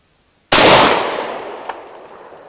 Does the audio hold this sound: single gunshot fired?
yes